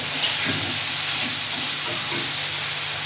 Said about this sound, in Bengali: এবারে মাছটা দিয়ে দেবো, দিয়ে ভালো করে একটু নেড়ে নেব,